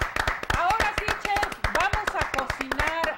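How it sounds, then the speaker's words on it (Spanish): Studio audience claps in rhythm on a Spanish-language morning TV show, the claps sharp and steady, with voices and music-like tones running over them throughout. "un aplauso, un aplauso del día"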